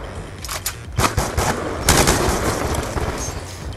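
Light machine gun fire in a Gun Game party match of a first-person shooter, with dense bursts of rapid automatic shots peaking near the middle, loud and close over a busy battle.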